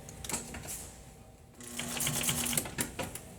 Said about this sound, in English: Go ahead and do a back stitch.